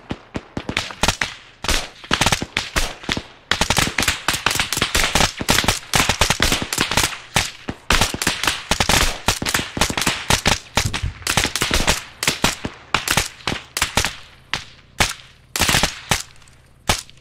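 Gunfire crackles through a military battle in ArmA3, with dense volleys of sharp, loud shots that stutter in irregular bursts and trade back and forth across the whole stretch, one brief pause near the start.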